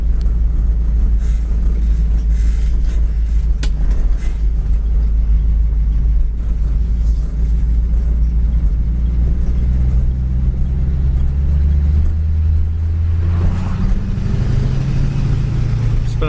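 A 1964 Ford Galaxie with a carburetor engine running at idle, a steady low rumble throughout, with a slight rise in revs near the end and no talk over it.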